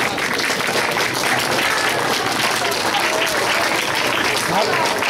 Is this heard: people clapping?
yes